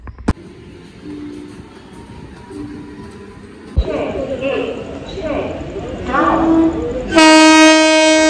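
A train pulls into a station with a rising rumble of wheels and rail clatter, ending in a loud, sustained horn blast up close.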